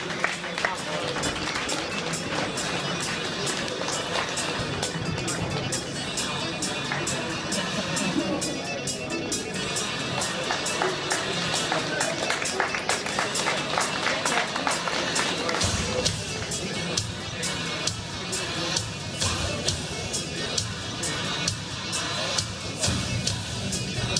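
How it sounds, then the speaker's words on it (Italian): Sustained clapping from the crowd at a 2014 Muay Thai world championship event as a tenth-dan Mugendo master is called to the ring for an award, dense and continuous throughout, with voices mixed into the noise. "Un grosso applauso."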